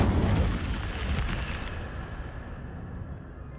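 Incendio fire spell cast in the video game Hogwarts Legacy, a loud fiery burst with a booming, crackling blast that gradually decays.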